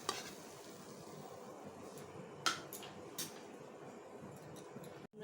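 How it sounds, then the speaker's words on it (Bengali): Jalebi, a few at a time, fry quietly in hot oil with a soft steady sizzle, broken by a couple of sharp clinks of utensils partway through. "অনেকটা করে তেল দিলে একবারে অনেকগুলো করে ভাজা যায়, আমি দুটো করে ভাজছি"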